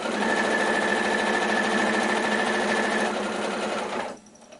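A sewing machine stitches a patchwork block from leftover fabric scraps, running with a fast, steady mechanical whir for about four seconds before it stops abruptly.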